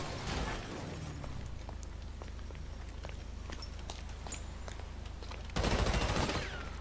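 Gunfire in GTA V Online, scattered sharp shots and crackling bursts over a low rumbling background, with a louder dense burst of fire near the end.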